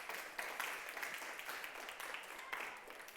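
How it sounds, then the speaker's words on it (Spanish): Church audience applauding, a continuous patter of many hands at moderate level, fairly even with small surges, heard without any voice over it. "Denle un aplauso al Señor"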